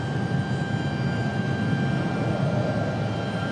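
Airliner taking off from runway 23 right at Raleigh-Durham International Airport, a steady, loud jet engine roar with a constant whine running through it, filling the whole span without pause.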